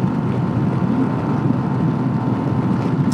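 A scooter engine runs at full throttle, holding a steady loud drone with wind rush while climbing a long hill at about 50 mph, with no change in pitch throughout.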